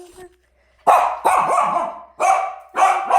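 A dog barks in four loud, close bursts separated by short pauses, the first two sounding rough and yelping.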